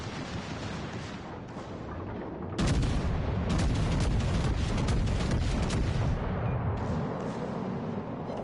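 Heavy naval gunfire from a battleship in World of Warships, a rumbling barrage of shell salvos that swells sharply partway through into dense, continuous booming, loud and close with no talk.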